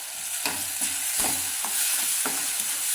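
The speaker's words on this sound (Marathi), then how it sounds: "हे एक मिनटासाठी असं छान असं हलवायचं तेल सुटेपर्यंत याला छान असं हलवत राहायचं" A masala of ground chili, garlic and peanuts fries in oil, with a continuous close sizzle and repeated spatula scrapes at an irregular stirring rhythm, no voices.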